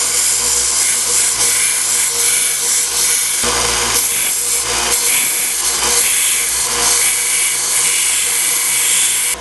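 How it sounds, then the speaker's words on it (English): A small sander grinding the point of a metal rod for an ornament makes a loud, continuous abrasive whir and rasp that stays steady with slight dips in pressure, no talking. "you can use a grinding wheel or any other way, but I use this little sander."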